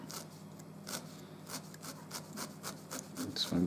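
Felting needle jabbing repeatedly into wool felt, a faint, rapid series of soft scratchy pokes in an uneven rhythm, close to the microphone with no talking.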